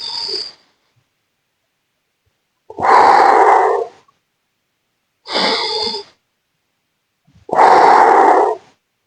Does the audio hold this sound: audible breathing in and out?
yes